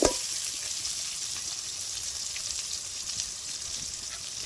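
Onions sautéing in a pan while cooking in a mud hut: an even, close frying hiss holds steady throughout after a brief bump at the start, with no voices.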